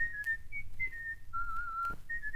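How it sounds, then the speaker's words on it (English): A man whistles a song alone, a clear, quiet tune of short held notes that step up and down in a relaxed rhythm. "Then the man began to whistle something."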